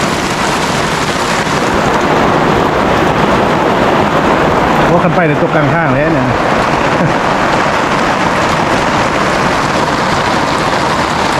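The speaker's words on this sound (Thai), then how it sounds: "โอ้ฝนก็ตกตกนะ" Steady rain pours down without pause, a dense even hiss filling the whole stretch while someone talks over it.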